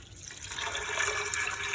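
Water pours from a tap into a cooking pot of lentils, a close, steady gushing and splashing that swells slightly as it fills, with no talking over it.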